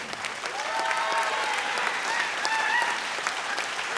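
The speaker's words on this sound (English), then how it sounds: "Round of applause for the lovely lady on the panel" Studio audience of a television vocal competition applauding a panel judge, a dense, even wash of clapping with a few faint cheers.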